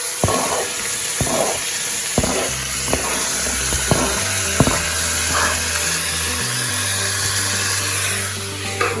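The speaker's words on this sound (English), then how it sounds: "will stir the onions until they are translucent" Onions frying in a pressure cooker for mutton curry, a loud continuous sizzle with regular scraping strokes of a stirring spoon, close and alone, over a steady low hum.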